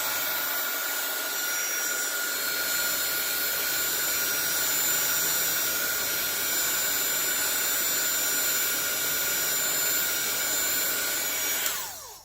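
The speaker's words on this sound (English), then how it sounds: "I'm going to hit one time more with the heat tool just to make sure" A heat tool for embossing blows steadily to melt embossing powder on a holiday tree card, a loud close whirring rush that holds without a break for about twelve seconds and then cuts off.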